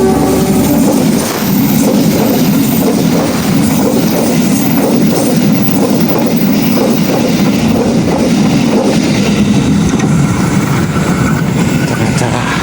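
A train rumbles past on the rails nearby, with steady clattering and rolling noise throughout, loud and continuous, no talking.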